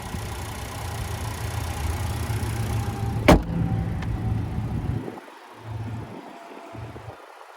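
A 2022 Nissan Altima SR Midnight Edition with a 2.5-liter naturally aspirated four-cylinder idles with a steady low hum. A sharp click sounds midway, and the engine note softens and grows patchy toward the end.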